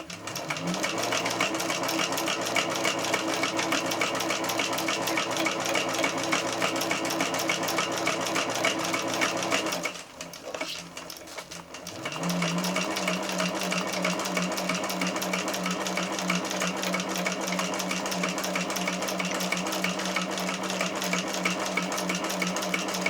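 Sewing machine stitching a backpack, running in a steady continuous whir, pausing briefly for about two seconds as the fabric is moved to the next side, then resuming at the same even pace.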